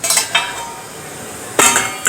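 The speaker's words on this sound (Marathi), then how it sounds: "आता याच्यावरती झाकण ठेवूया" A metal lid sets down on a pot steaming puran dinda over boiling water, with sharp clinks and clatters at the start and again near the end, a quiet pause between.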